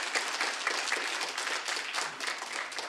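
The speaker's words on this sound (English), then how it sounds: "So let us give them a round of applause." An audience at a year-end press conference in Kyiv applauds in a steady, moderately distant round of clapping, individual claps faintly distinguishable within the continuous patter.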